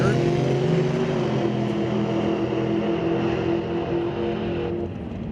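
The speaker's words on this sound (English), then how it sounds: "a JBS dragster" A JBS dragster races down the strip at Mission Raceway Park during eliminations, its engine a loud, sustained harmonic roar that slowly fades as it pulls away, with an announcer talking over it.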